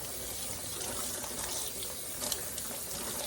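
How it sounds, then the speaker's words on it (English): Steady running tap water pours in a sink while collard greens are rinsed under it, a continuous close splashing hiss with a small splash near the end and no talk. "I just take them and just wash them like this, right?"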